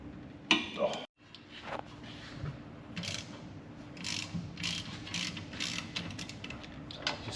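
A wrench ratchets on the bottom bolts of a Daihatsu Hijet's suspension during a coilover install, giving irregular clicking and metallic clanks with a sharp knock near the start, all close up.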